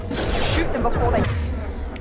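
Video game gunfire rattles in a continuous, close burst under a speaking voice throughout the short stretch.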